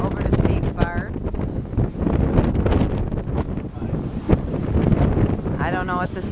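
Sailboat under way at sea heading toward St. Barts in big, wavy seas, with steady wind buffeting the microphone and water rushing past the hull throughout, a person talking over it and a few brief birdlike chirps.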